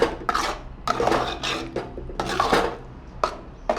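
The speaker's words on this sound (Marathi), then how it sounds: "आता ते तेल सुटेपर्यंत त्याला छान परतवून घेऊ" Metal utensil scraping and stirring black masala in oil in a pan for misal, repeated rasping strokes at an uneven rhythm, close by with a faint low hum underneath.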